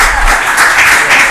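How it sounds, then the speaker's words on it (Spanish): Loud, dense applause from a conference audience welcoming a speaker, a close continuous wash of clapping throughout the short burst. "Un fuerte aplauso nuevamente."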